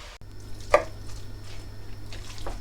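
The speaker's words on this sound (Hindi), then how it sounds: "कीमे को अच्छी तरह से मिक्स करेंगे।" Minced meat being stirred into spiced masala in a cooking pan, a sharp spoon knock followed by soft wet squishing and scraping, close with a low hum behind.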